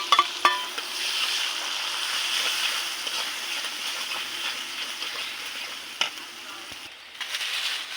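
Ground spices go into onions that are nearly done frying in a pan, giving a steady, moderate sizzle throughout with a few light clicks and knocks of stirring, and no voices.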